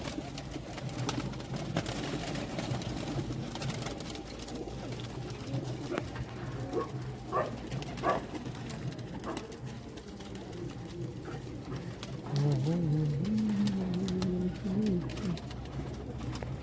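Large pigeons kept by a fancier coo repeatedly nearby, low rolling calls continuing throughout with a louder burst near the end, over steady background noise.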